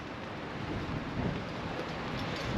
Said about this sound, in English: the rain is starting to get me